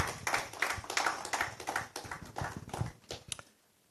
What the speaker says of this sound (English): I think that the good people in NBCC deserve a round of applause.